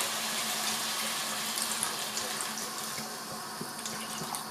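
Tap water runs steadily into a cooking pot holding potatoes and mushrooms for a creamy mushroom soup: a soft, continuous splashing stream at moderate distance, with no voices.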